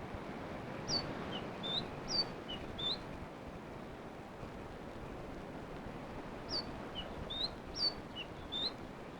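Bird song of a black robin, short high whistled phrases repeated in two bursts over steady forest background hiss.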